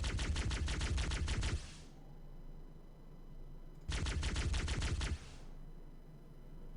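Two long bursts of rapid automatic gunfire in the Halo CE video game, each lasting over a second with a pause between, loud and close with a short echo trailing off.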